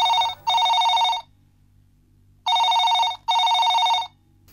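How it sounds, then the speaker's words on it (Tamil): A telephone bell rings in two double bursts, each pair of loud electronic trills separated by a silent gap, close and clear with no talk. "பெல்லு வேற அடிக்குது, நல்ல சுகுணமா கெட்ட சுகுணமான வேற தெரியல."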